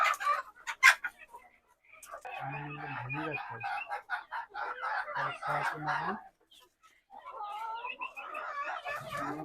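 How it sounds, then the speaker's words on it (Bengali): Native chickens and roosters on a farm cluck and call at close range, with loud crowing, a brief sharp squawk, and steady clucking; a person talks in between. "দেখুন মোরগ গুলো একেবারে এত ভালো লাগে দেখতে"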